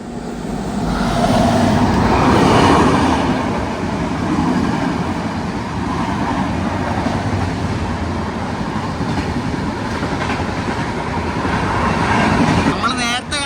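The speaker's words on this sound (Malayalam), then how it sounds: "ഏതോ വണ്ടിയുടെ ഓവർടേക്ക് കേട്ടോ." Another train overtakes on the adjacent track beside the delayed Aronai Express in India: a loud, sustained rumble and rattle of passing rail cars, heard close by from inside the train for the whole stretch.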